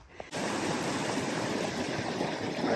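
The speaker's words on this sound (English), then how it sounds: "Well, there's a bit of a creek crossing." A mountain creek on the Colorado Trail near Twin Lakes rushes in a loud, continuous broadband wash that starts abruptly after a brief quieter moment, steady and close with no talking.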